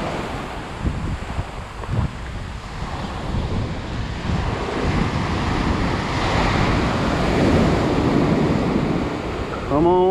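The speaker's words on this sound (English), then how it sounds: "Now we got an onshore wind with lots of water misting" Heavy surf crashes steadily on a beach ahead of Hurricane Dorian while a strong onshore wind roars across the microphone, a dense, continuous wash of waves and gusts with no voices.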